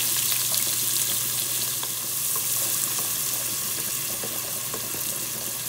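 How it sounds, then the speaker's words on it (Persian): Onions sizzle in hot oil in a pan alongside fried sliced sausage and potatoes, a steady close crackle of frying that runs throughout with no talking. "کالباس ها خود کچلو ها سرخ شده و حالی هم ما پیاز رو سرخ میکنیم."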